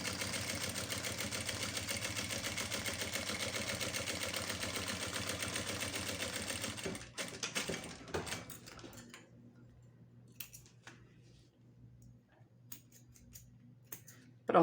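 A sewing machine runs steadily for about seven seconds stitching a second half-foot seam on fabric for a versatile toiletry bag, then stops, leaving faint handling clicks and rustles.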